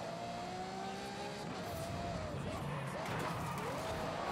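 Race cars roar through a video game race, a constant loud engine drone with rising and falling revs and gear shifts, while a voice talks over it.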